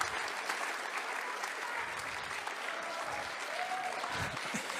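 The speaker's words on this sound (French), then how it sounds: "j'entends des applaudissements simplement en lisant le sommaire" Sustained applause from a debate audience, a dense wash of many hands clapping steadily throughout at moderate loudness, with no speech over it.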